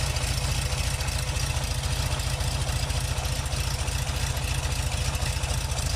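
An original 1200 car engine, rebuilt and still awaiting carburettor adjustment with a warped pulley, idles steadily and loudly with a regular low throbbing pulse and no talking.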